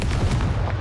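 Confringo fire spell explosion in Hogwarts Legacy, a short dense booming blast, loud and close, with a rolling low rumble and no speech over it.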